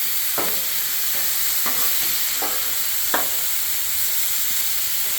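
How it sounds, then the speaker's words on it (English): Steak searing on a Blackstone griddle, giving a steady close sizzle with a hissing wash and a few sharp crackles and pops, and no talking. "our steak has been cooking, searing on one side"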